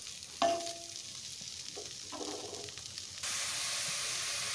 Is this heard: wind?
no